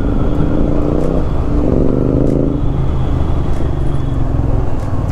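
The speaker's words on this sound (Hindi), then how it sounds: "और एग्जॉस्ट साउंड सुनना।" Royal Enfield Interceptor 650 motorcycle exhaust rumbling loudly and close, with a couple of short revs early on and then a steady, throbbing idle-like drone.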